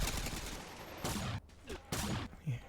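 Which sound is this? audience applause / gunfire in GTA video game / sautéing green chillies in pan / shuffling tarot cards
gunfire in GTA video game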